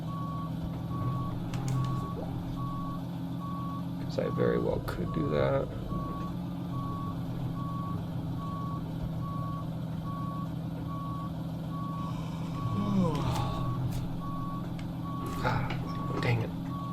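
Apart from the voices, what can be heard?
truck reversing with beeps in the video game American Truck Simulator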